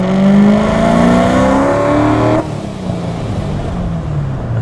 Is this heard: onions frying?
no